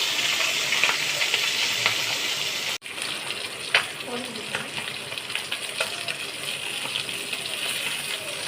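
Pabda fish fry in hot oil with a loud, continuous sizzle close by. The noise dips sharply for a moment, then resumes with scattered pops and spatters, and faint talk drifts in underneath.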